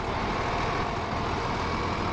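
A truck in Farming Simulator 2015 gives a loud, steady engine drone with a heavy low rumble, holding an even level throughout and with no voice over it.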